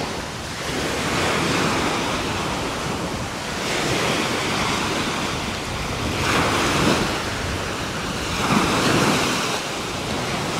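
Choppy ocean surf breaks on a windy beach in Sand Creek District, a steady loud roar of wash and spray with several rising surges, overlaid by gusty wind buffeting the microphone.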